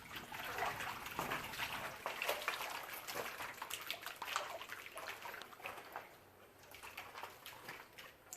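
Mixed plaster of paris being poured into a mould, a steady wet pouring and splashing rush that continues close and fairly loud throughout before easing slightly near the end.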